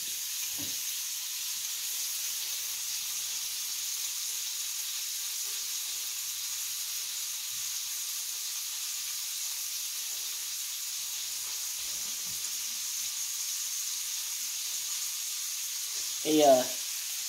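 Chunks of deer neck roast sizzle in a pan, a steady close hiss of frying that goes on throughout, with a few faint knocks and a brief clatter near the end.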